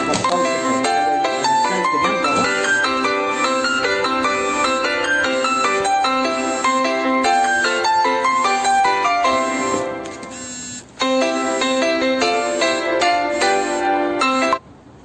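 A mobile phone ringtone plays loudly and steadily as a bright, repeating electronic melody, with a brief dip near the end of the run before it resumes and cuts off, heard during a sewing lesson with no talking over it.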